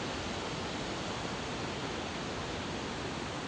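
Waterfall at Rainbow Bridge in Nantou, Taiwan: a dense, unbroken roar of falling water, loud and steady throughout with no pauses or other sounds.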